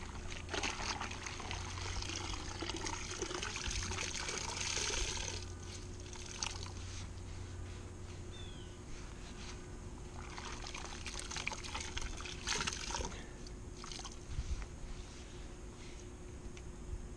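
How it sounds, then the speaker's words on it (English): Water dribbles and trickles from a pair of shorts being wrung out after washing in a dry bag used as a laundry machine, a steady close pouring sound with brief stronger splashes. "is wring them out"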